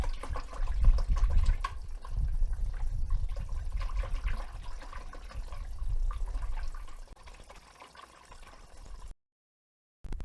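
Coolant concentrate is poured into the radiator of a Kioti CK25 HST tractor, giving a soft, steady liquid gurgle and splash that fades toward the end, heard close with no talking.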